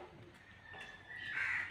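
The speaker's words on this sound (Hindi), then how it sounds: "इधर चिड़िया उड़िया आ गई हैं।" Crows caw outdoors on a rainy, foggy morning at a farm where a buffalo is tied, with a few harsh calls over light background patter, the last call loudest and nearest.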